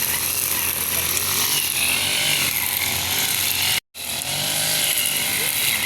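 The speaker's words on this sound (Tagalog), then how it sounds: "grass cutter." A gasoline grass cutter runs loud and steady, close by, as it cuts overgrown grass in a plaza, with one sharp break near the end before the engine whine resumes.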